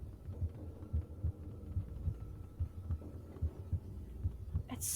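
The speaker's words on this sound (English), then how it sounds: "you can hear Raz's heartbeat" The low-health heartbeat of Raz in the Psychonauts video game thumps in a steady, muffled double-beat rhythm, low and fairly quiet, over a faint hum.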